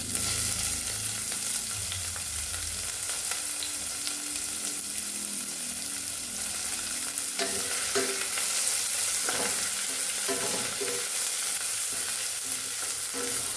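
Two medium finely chopped onions frying in a pan for a masala sandwich filling, a steady broadband sizzle with intermittent scraping stir strokes, close and continuous with no talking.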